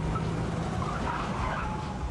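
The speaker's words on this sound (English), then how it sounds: "A black SUV speeds off from the venue, running a red light in an attempt to get away" A black SUV speeds away, roaring loud and close with a rough engine rush and a faint tire whine, continuous for about two seconds.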